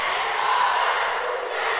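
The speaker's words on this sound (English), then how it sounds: "Comets cheer team always bring it" At a varsity high school basketball game in the eSTEM gym, the Comets cheer team cheers in a dense, loud, sustained roar of voices that fills the room for nearly two seconds.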